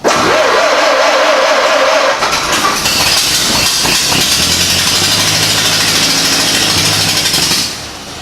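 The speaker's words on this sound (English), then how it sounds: "I'm going to pull the choke rod out and give her a whirl and see if she goes." A 1929 Ford AA tow truck's old engine cranks over and catches on a cold start, then settles into a steady, loud, rumbling idle close by, with no talk.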